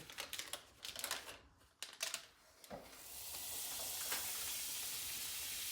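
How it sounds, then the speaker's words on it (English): Butter melting in a preheated pan greased with bacon grease for a keto green bean mushroom casserole: scattered crackles and pops at first, then a steady, loud hiss of sizzling fat close by. "I'm going to melt my butter in this pan"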